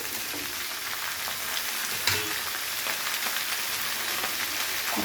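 Winter vegetables, including cauliflower stems and eggplant, sizzle steadily in a hot pan for a prawn curry, with a soft crackle and occasional scraping as they are stirred. No voices are heard.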